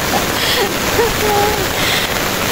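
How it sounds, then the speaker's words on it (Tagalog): Heavy downpour roars as a continuous loud wash of water, with faint brief whistles or squeaks riding over the steady hiss. "Kasi malakas ang ulan."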